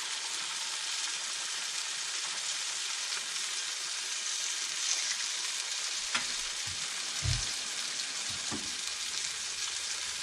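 Eggs frying in a pan for eggs Benedict, giving a steady close hiss of sizzling oil throughout, with a few faint clicks and soft bumps near the end.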